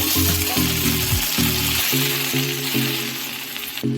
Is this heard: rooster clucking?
no